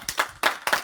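A church congregation clapping in rhythm, three sharp hand claps with some roomy spread, brief and fairly close.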